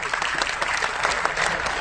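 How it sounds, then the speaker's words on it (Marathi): Dense, steady applause from an audience at a Jakhadi folk dance competition, continuous clapping throughout with no break. "टाळ्या वाजवा आता"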